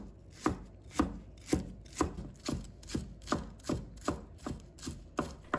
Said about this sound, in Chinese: 再准备3根小葱，把它切成葱花。